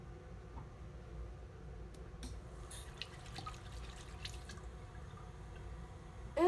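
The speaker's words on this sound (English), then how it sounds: "I'm gonna use hot water." Hot water runs quietly from a tap into a sink, a low steady wash with scattered drips and small splashes, faint and alone.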